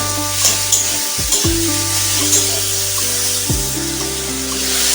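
Tomatoes fry in a pan with a pinch of salt and sugar, giving a steady sizzle, while a spatula stirs them with a few scraping knocks and clatters up close.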